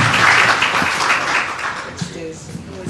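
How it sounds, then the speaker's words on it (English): Audience applause at a business networking showcase, a steady wash of clapping that thins out toward the end while a voice talks faintly over it. "Big round of applause for Aisha,"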